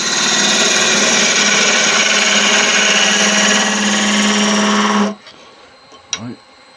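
A wood lathe turning a giant mulberry wood snowman, a loud steady whirring hum for about five seconds that stops abruptly, followed by near silence and a brief faint voice.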